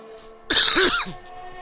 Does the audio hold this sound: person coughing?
yes